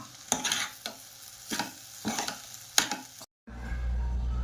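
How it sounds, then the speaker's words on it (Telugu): Vermicelli noodles are stirred in a hot pan with a spatula, giving five or six distinct scraping strokes over a soft sizzle, then a brief silence before a low steady frying hum resumes, no voices. "ఇందాక మనం చేసి పెట్టుకున్న సేమియాని దీంట్లో యాడ్ చేసుకోవాలి. ఇది కలుపుకోవాలి బాగా."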